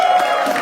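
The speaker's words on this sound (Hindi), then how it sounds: "जोरदार तालियों के साथ।" A studio audience at a game show cheers and claps in a brief, loud burst of mixed voices and whoops.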